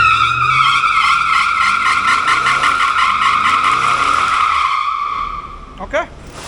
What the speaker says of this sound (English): Let's see if it'll do a quick little burnout here.